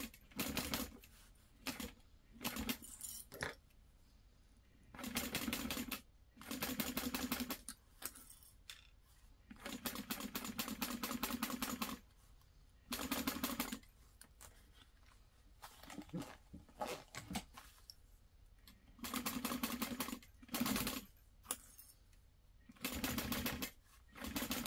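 A sewing machine stitches a bag seam at 3/8 inch in repeated bursts of rapid, close mechanical whirring, each run lasting a second or two and separated by short pauses with light handling noises.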